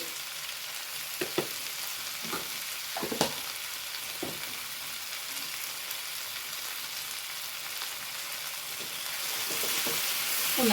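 Spices such as turmeric, pepper and chilli powder being stirred in a hot pan for jackfruit biryani, with a steady frying sizzle throughout and a few scraping spoon strokes, close and alone without talk.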